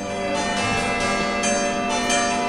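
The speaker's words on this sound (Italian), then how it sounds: "Suonano a festa le campane di Santa Maria Assunta di Borgo Panigale" Church bells of Santa Maria Assunta in Borgo Panigale ring out in celebration, a dense, sustained peal of overlapping tones with steady loudness throughout and no voices.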